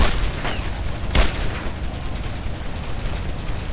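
Anti-aircraft gun firing in the video game Brothers in Arms: Road to Hill 30, heavy booming bursts with a loud blast near the start and another around a second later, over a dense rumbling battle din.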